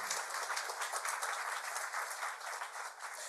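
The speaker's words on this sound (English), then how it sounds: "So he deserves an applause." An audience at a lecture applauds steadily, a dense wash of many hands clapping at moderate distance, continuous and even throughout with no speech over it.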